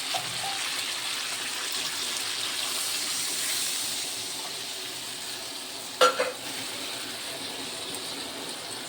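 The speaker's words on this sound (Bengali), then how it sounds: "এবার আমি জল দিয়ে দিই।" Water goes into a pan of potato and eggplant curry cooked with spices in oil, giving a steady broad sizzle and hiss, with a couple of brief clinks near the end.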